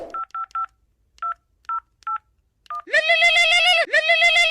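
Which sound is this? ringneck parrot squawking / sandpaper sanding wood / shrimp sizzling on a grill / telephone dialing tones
telephone dialing tones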